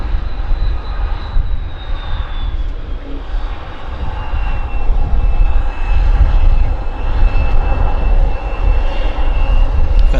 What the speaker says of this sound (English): Got the American Airlines coming in here.